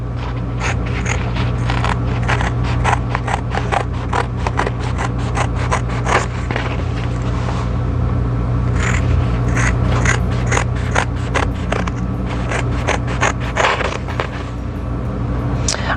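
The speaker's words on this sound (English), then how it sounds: "I'm going to go ahead and pop this out of the hoop and just trim this bag out." Scissors trim around a child's felt bag freshly popped out of an embroidery hoop, a rapid run of close, crisp snips and scrapes over a constant low hum, pausing briefly before more cutting.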